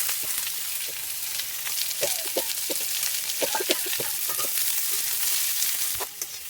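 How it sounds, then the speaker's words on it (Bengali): Garlic, onion and green chillies fry in a pan of hot oil with dried red chillies and bay leaf, giving a steady close sizzle broken by brief stirring scrapes, with no voices. "দেখো পেঁয়াজটা লঙ্কাটা ভাজা হয়ে গেছে"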